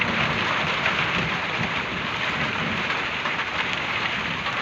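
Heavy rain pours steadily onto trees and plants just after pruning, a loud, even, hissing downpour that fills the whole stretch without pause, with no voices present.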